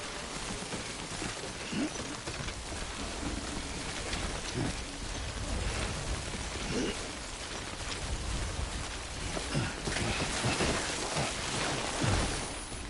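Steady rain hisses down without a break in the game Death Stranding, a dense close-up patter with occasional heavier drops and thuds.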